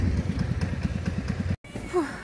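A motorcycle engine runs at a steady idle with an even, rapid chugging pulse, close by and fairly loud. It cuts out briefly, then a faint rising whine follows.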